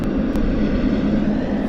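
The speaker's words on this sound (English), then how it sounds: "Singapore Airlines taxiing out at the moment" A Singapore Airlines airliner taxiing at Sydney Airport produces a loud, steady low engine hum and rumble, continuous and without any talk.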